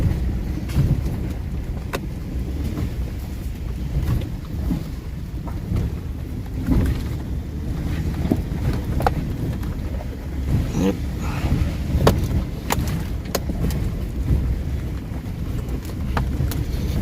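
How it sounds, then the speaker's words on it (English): A steady low Ford engine drone with whine, road and wind rumble, continuous and fairly loud, with no voices. "I just love the sound of those Ford engines whine."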